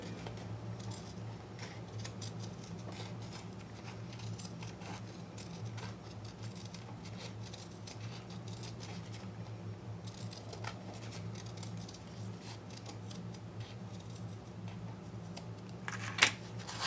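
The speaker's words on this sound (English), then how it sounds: "Now I'm going to cut a square, and I'm just going to round the corners a little bit." Scissors cut a square out of fabric and cardboard, then round its corners, making repeated soft, close snips at an irregular pace over a faint hum, with one sharper snip near the end.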